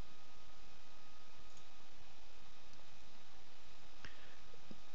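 Sparse, faint computer mouse clicks sound at irregular intervals over a quiet background hiss. A small cluster comes near the end.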